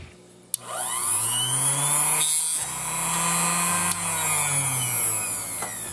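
A Chicago Electric mini table saw cuts through plastic, its motor a loud, steady high-pitched whine with a droning tone, a sharp onset near the start and brief dips as the blade bites and tears the workpiece, with no talking.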